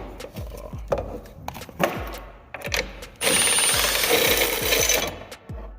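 A 13 mm socket wrench works the mirror bolts on a Polaris Slingshot, giving quick repeated ratcheting clicks up close, then a louder continuous rattling stretch near the end.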